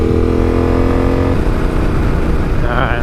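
A Yamaha Tenere motorcycle engine runs loud and close, revving up and dropping back during rev matching, with a rough pulsing drone and rising pitch near the end.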